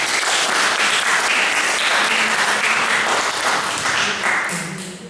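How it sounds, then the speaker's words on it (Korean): A church congregation clapping steadily and warmly during a worship service, a dense sustained applause that tapers off at the end. "하나님께 영광을 올려드리는 박수"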